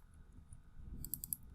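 Computer keyboard keys pressed while drafting in AutoCAD: three quick, faint clicks land close together near the end, over a low, quiet room hum.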